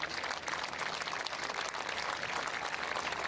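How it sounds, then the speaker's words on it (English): A stadium crowd applauds at a women's football match between Eintracht Frankfurt and VfL Wolfsburg, giving a continuous, distant wash of clapping with no breaks. "Round of applause for Bielda, who really is bloodied up by that bash of the ball"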